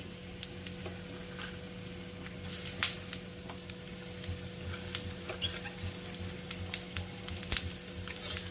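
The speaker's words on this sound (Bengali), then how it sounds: "কিছু কুচনো পেঁয়াজ তারপরে দিয়ে দিচ্ছি কাঁচা লঙ্কা একটু ফাটিয়ে দিই" Chopped onion and green chili fry in hot oil for a Bengali pabda fish curry, giving a steady sizzle with scattered sharp crackles and pops, close and moderately loud, with no one talking.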